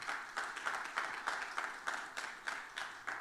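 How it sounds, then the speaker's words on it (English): Scattered audience clapping at a keynote talk during a business conference, a moderately faint, uneven patter of hands with rhythmic bursts rising and falling across the short stretch. "Unexpected applause is always good."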